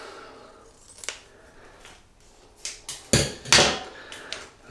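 A few crisp snips of scissors cutting open packaging for a shaving soap, irregular and close, with quiet gaps between cuts.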